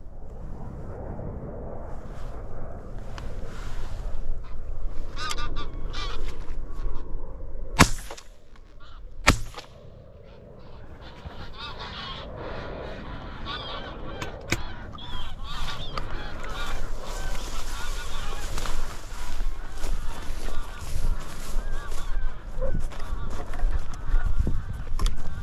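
A flock of geese honks continuously overhead during a goose hunt, with a steady chorus of calls and two sharp shotgun blasts cracking through partway in.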